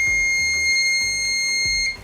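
A buzzer on a distance-sensor circuit with a red LED sounds a steady high electronic tone, continuous and loud, with a low pulsing hum underneath and no voices.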